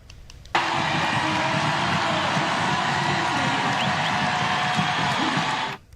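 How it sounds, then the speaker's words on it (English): A large stadium crowd at BMO Stadium roars for Angel City forward Sydney Leroux's return to the soccer pitch, a dense, sustained wall of cheering that starts abruptly and holds loud and steady throughout. "The crowd roaring."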